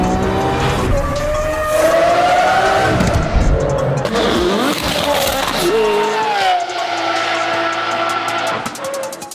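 A 700+ horsepower Gintani-tuned Mercedes G Wagon is driven hard, its engine revving loudly in rising and falling sweeps with brief tire squeal as it accelerates, close and continuous throughout.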